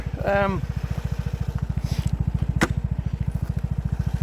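Vespa GTS 300 scooter engine running steadily while riding on a road trip in Latvia, a loud, even rapid pulsing throb throughout, with a brief voice early on and a short click partway through.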